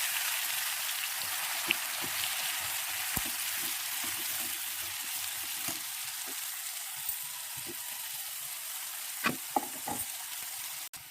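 Ground onion and tomato paste fries in refined oil with a steady, dense crackling sizzle, broken by a few louder pops and stirring knocks near the end.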